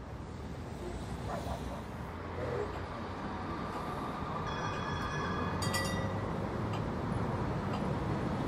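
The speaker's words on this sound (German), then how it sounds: "Unten fährt die BIM." A Vienna tram rolls along the street below the elevated Stadtbahn near Gumpendorfer Straße, a steady loud rumble of wheels on rail with brief metallic squeals and ticks, no voices.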